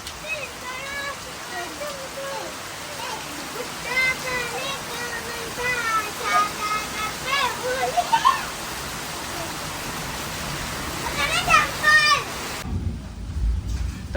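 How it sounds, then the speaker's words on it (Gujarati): Heavy monsoon rain falls in a steady, close hiss while children and adults chatter and call out nearby over the downpour. "એકદમ ખાસ વરસાદ ચાલુ થયો છે"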